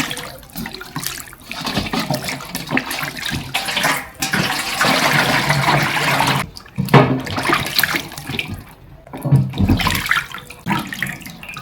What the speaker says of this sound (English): I'll go ahead and wash it.